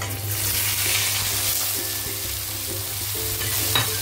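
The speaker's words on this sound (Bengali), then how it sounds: "কড়াইয়ের তেলটা ভালোভাবে গরম হয়ে গেছে, এখন পনিরগুলো আমি দিয়ে দেবো" Paneer pieces fry in hot oil in a kadai, giving a steady, moderate sizzle with soft clinks from stirring throughout.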